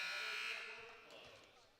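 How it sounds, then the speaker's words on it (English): Buzzer sounding at a high school basketball game between Larson Ford and WCT Warriors, a loud sustained tone that slowly fades over about two seconds amid arena noise, with a commentator's voice faintly present. "Here's Wells. Wells at the buzzer"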